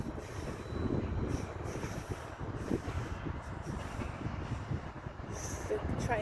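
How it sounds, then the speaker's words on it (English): A train rumbles past a castle on a morning dog walk, a steady low rolling roar with faint metallic squeal that holds for several seconds, moderately close and continuous. "The train going past the castle."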